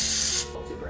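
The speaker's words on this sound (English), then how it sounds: "we just want to spray the ramekins with some baking spray, something non-stick" A short hissing burst of non-stick baking spray coating ramekins, lasting under half a second, followed by quieter clicks and handling noise.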